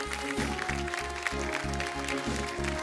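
An audience applauds steadily on a Marathi TV show. The clapping runs over a rhythmic music bed for a few seconds.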